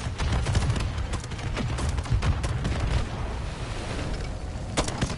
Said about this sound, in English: Ah, grenade.